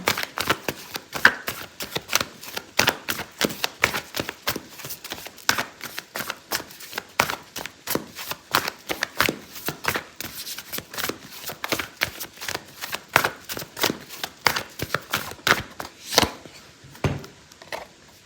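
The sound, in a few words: shuffling oracle cards for a tarot reading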